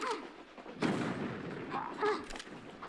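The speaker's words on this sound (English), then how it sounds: "while I was shooting the grenade gun, I was taking damage" Grenade launcher fired in Tomb Raider: The Last Revelation, giving a couple of sharp, loud blasts with rumbling tails, separated by a gap and set against game ambience and faint voice-like sounds.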